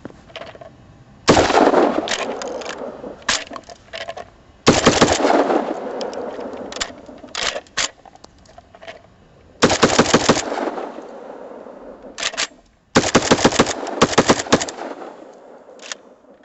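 Saiga 12 shotgun fitted with an underfolder stock firing in four loud, rapid bursts of several shots each, with short gaps of silence and echo between strings.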